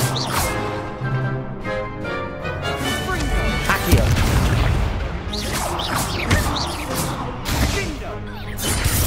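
Accio summoning spell cast in the video game Hogwarts Legacy, with a voice calling out amid loud magical whooshes, crashing impacts and clattering bursts that come in quick succession.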